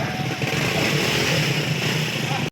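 Motorcycle engine droning steadily as the bike pushes through deep high-tide floodwater in Panginay, Balagtas, Bulacan, a continuous close rumble with splashing wash and no speech.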